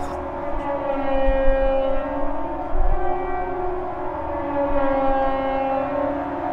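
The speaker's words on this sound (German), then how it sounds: "Hier mögen die Sirenen nur ein Test sein." A civil defense siren sounds during a test, its steady mournful wail rising and falling slowly in a loud, sustained tone with low background rumble.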